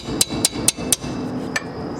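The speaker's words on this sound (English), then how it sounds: "place your wrench over the nut and then tap it with the hammer." Four quick sharp hammer taps strike a wrench fitted over a brake caliper nut on an Acura TL rear brake, followed by a pause and one more tap, close and clear with no talking.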